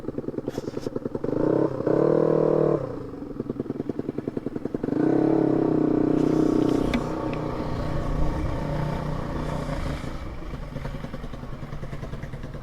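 A motorcycle engine idles with a steady putter and is revved hard twice, each rev rising into a loud, sustained roar before it settles back to a rough, even idle.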